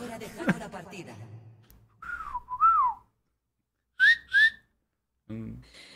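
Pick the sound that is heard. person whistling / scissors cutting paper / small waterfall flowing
person whistling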